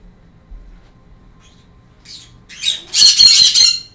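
Pet bird letting out a loud, harsh burst of squawks after a quiet stretch, close to the listener indoors.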